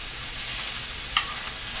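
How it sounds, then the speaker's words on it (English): Constant, close sizzling hiss of ground beef frying in a pan, with one brief sharp crackle partway through. "Oh, there it's sizzling"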